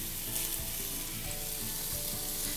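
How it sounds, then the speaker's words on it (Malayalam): Chopped onions for egg biryani fry in hot oil, giving a steady soft sizzle with a few light stirring knocks, close and fairly quiet, with no speech. "ഇത് നന്നായിട്ടൊന്ന് വഴറ്റിയെടുക്കണം."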